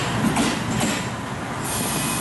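A two-car train converted from Series 50 passenger coaches runs from Toya toward Sapporo in Hokkaido, heard from inside as a steady, loud rumble of wheels on rail with faint squeal.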